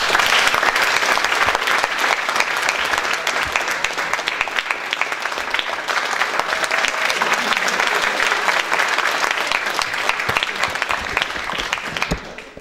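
Audience applause after a performance of a theatre drama, dense, steady clapping from a large crowd that carries loud and even for about twelve seconds before fading out at the end.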